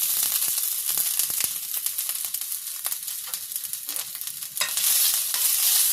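Grated ginger frying in hot oil for paneer paratha filling, a dense continuous sizzle with crackling pops and stirring, close up and with no one talking.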